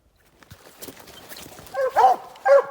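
Coonhounds barking on a raccoon trail at night, a few loud, near baying barks bursting out in the final second after quieter rustling and faint sounds.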